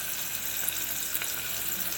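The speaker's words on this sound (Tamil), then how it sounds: "வெங்காயம் நல்லா ஃபஸ்ட்டு வதங்கட்டும்" Onions sizzle steadily with crushed ginger and garlic in a hot pan, a constant close crackling fry with no talking.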